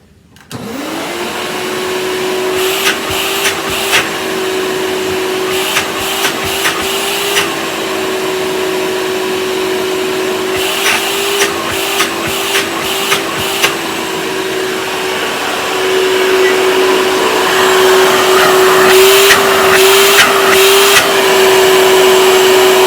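A Hoover Power Max S3607 vacuum cleaner starts up and runs with a steady loud whine and motor hum that grows slightly louder late on, with intermittent clicks and bumps of handling over it.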